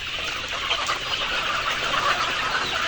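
A crowd of layer hens clucks and squawks as they are loaded into a vehicle, a dense, constant chorus of overlapping calls close by and loud, with no clear talk.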